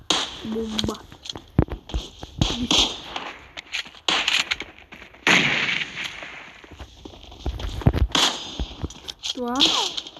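Video-game explosions and gunfire crack out in sharp, irregular bursts, some close and heavy, mixed with excited voices talking over the action.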